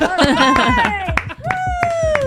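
A small group claps together on a count, a burst of sharp, fairly close hand claps mixed with voices and laughter that continue after the clapping.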